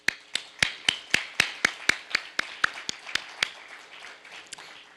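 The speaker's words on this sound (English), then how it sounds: "Now that deserves a round of applause" Steady, evenly spaced claps ring out at a civic State of the City address, close and crisp, slowly softening and thinning toward the end.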